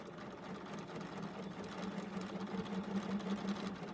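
A sewing machine stitches at steady speed, its close, even mechanical hum and rapid needle rhythm running continuously throughout with no talk.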